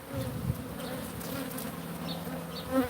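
A bee buzzes close by and steadily, an insistent whining drone that rises and falls slightly over a few seconds.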